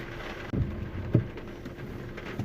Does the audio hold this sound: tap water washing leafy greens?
no